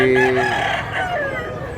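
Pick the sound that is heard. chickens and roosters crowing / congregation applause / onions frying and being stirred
chickens and roosters crowing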